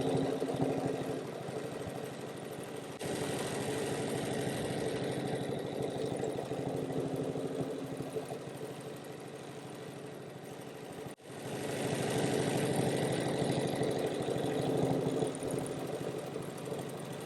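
Sewing machine stitching free-motion quilting on a quilt to form a fern design, a steady close mechanical whir running continuously with one brief break partway, no voices.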